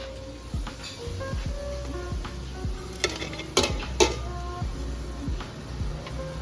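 Whole spices, black peppercorns, cloves, cinnamon sticks and black cardamom pieces, tipped into browned onions frying in a pot, with scraping stirs and faint sizzling and a few clinks of the spoon against the metal.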